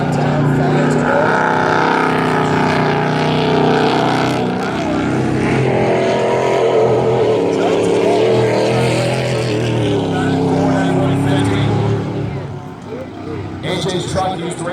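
Race truck engines roar continuously during a truck class feature race at Valley Raceway, a loud sustained drone with one truck refiring after coasting, all under an excited commentator's voice.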